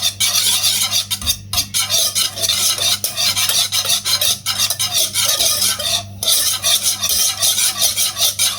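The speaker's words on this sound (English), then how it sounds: "Now put the cream back in the pot until it thickens." Cream is stirred steadily in a pot on the stove as it thickens, producing a continuous close, loud scraping swish with rhythmic strokes of the utensil and no talking.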